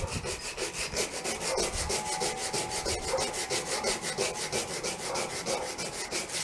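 Sandpaper rubbed hard across an abalone shell to strip off calcium, a close, loud, steady rasping scrape in quick regular back-and-forth strokes that runs on without a break.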